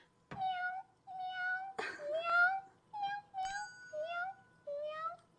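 A person imitates a cat, giving a series of about six high-pitched meows in a steady rhythm, close and clear.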